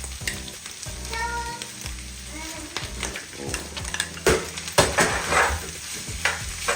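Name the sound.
stirring rice into sizzling pan for chicken fried rice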